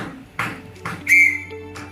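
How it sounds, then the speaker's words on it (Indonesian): One short, high whistle blast, like a single Morse dot, sounds among soft taps and room noise. "apabila dibunyikan menggunakan peluit, simbol titik berbunyi seperti ini"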